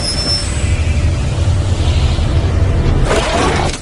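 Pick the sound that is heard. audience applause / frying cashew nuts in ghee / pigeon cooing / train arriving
train arriving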